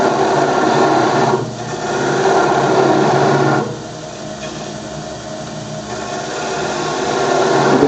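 Wood lathe spinning a square oriental lidded bowl while a parting tool cuts, a steady close rasping scrape that drops away twice briefly before resuming.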